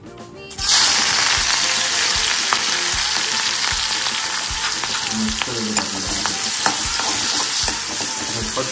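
Ginger, garlic and green chili paste hitting hot oil for a prawn biryani, erupting into a loud, steady sizzle that crackles continuously up close, with faint stirring clinks.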